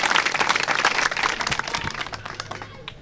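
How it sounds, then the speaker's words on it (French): An audience at a public school show in Maroua breaks into loud clapping that gradually tapers off over a few seconds, with faint crowd murmur beneath. "On les applaudit encore très fort, s'il vous plaît"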